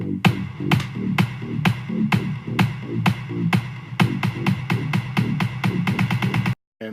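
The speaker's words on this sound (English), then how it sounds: "the next thing I've done is that classic build up with the drums where they double time every, I guess, 4 bars" An EDM drum build-up with loud, sharp hits that start spaced apart and get faster and denser until they are rapid-fire, then stop abruptly, with no talking.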